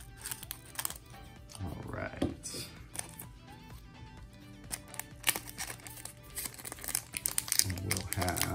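Scissors cut open the plastic and cardboard packaging of a Pokémon Champions Path trading card box, making close crinkling and snipping sounds with short bursts of rustling while a person speaks briefly.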